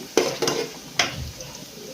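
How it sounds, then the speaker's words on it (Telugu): Onions frying in oil with cumin and mustard seeds for a Nellore-style fish curry, heard as a few sharp spoon clinks and scrapes against the pan over a soft, low sizzle, close and otherwise quiet. "ఇంకా కొంచెం కలర్ వచ్చేలా వేయించుకుందామండి."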